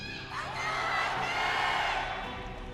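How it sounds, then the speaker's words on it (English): An arena crowd at a StarCraft II esports final erupts in a large cheer with whoops and yells that swell, hold and then ease slightly, loud and spread out across the hall. "Large cheer from the crowd"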